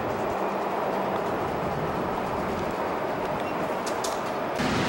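Washington DC Metro train moving through the above-ground National Airport station, a steady broadband rumble and rolling rail noise that continues throughout, with faint high squeals near the end.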